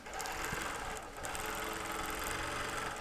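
A quilting machine stitches over a hibiscus print with a fast, steady mechanical whir and rattle, nearby and continuous, with a brief dip in intensity partway through.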